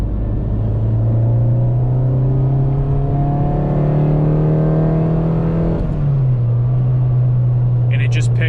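A Honda K24 engine held at around 3,000 rpm in fourth gear, a loud steady drone with rising harmonics that pulls up in pitch before dropping back, running continuously throughout.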